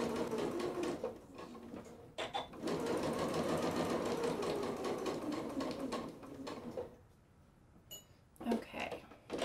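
A sewing machine stitches quilted fabric in close, rapid bursts of mechanical whirring and clatter with brief pauses between runs. A voice speaks between the bursts.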